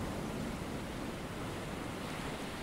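Ocean waves roll in a steady, broadband wash of surf noise with no breaks, close and even, used as the backdrop of a guided meditation.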